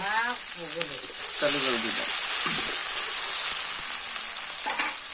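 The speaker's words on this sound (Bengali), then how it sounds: "বন্ধুরা ইঁচড়টা কষানো হয়ে গেছে" Raw jackfruit sautéing in a pan gives a loud, steady sizzle and hiss, with brief stirring scrapes and a voice speaking at the start and end.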